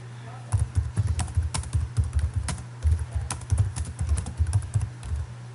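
A computer keyboard clacks as a short tweet is typed, with quick bursts of key presses in an uneven rhythm, close and clear against a faint steady hum.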